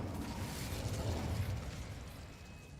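An Incendio fire spell cast in the video game Hogwarts Legacy, a continuous roaring, crackling burst of flame that is strong at first and gradually eases off, close and dense with no talking.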